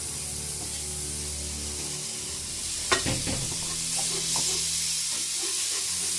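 Blackened steak sizzles in a pan with butter and Cajun powder, a steady loud frying hiss throughout, with a sharp clatter and spatter burst midway as the steak is flipped.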